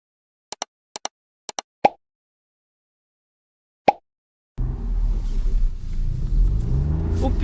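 A few sharp clicks and a thump come first, then a car engine in a parking lot rumbles loudly as it accelerates. The revving builds into a continuous low roar.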